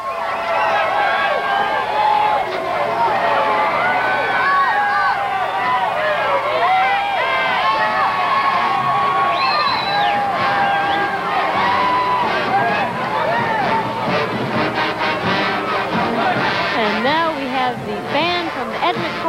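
Dense crowd cheering and babble lines a New Orleans street during the 1994 Bacchus Mardi Gras parade, with huge floats passing and a marching band nearby, sustained and loud throughout with voices layered over the roar.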